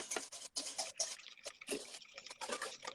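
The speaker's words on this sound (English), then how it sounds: "Oh, I need to add more water." Water is added to a cooking mixture, producing soft pouring and dripping splashes in short irregular bursts, close and moderately quiet, with no talking.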